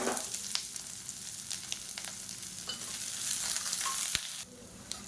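Sliced onion fries in a little oil in a kadai for a Tamil idli chutney, with a constant moderate sizzle and scattered scraping taps from stirring. It sounds close and quiet overall, and no one speaks.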